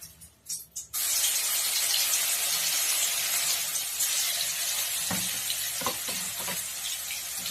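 Steady loud sizzling of spices frying in a pan, starting abruptly after a few soft clicks, with occasional stirring scrapes partway through.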